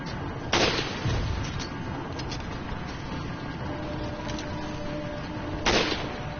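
Two loud gunshots in the Resident Evil 4 video game, one early and one near the end, each a sharp burst over a steady background of game ambience.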